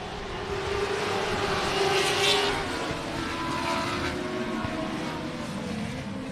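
Race cars roaring around the oval at Texana Raceway Park under green-flag racing, a steady, dense engine drone from a distance that swells slightly midway with no talk over it.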